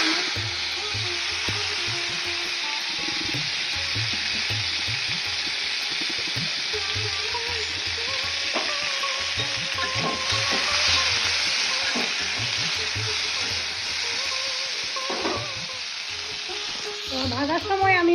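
Sago fried in a wok with a little oil gives a continuous close sizzle, with a low rhythmic tapping and scraping of stirring running throughout and no talk.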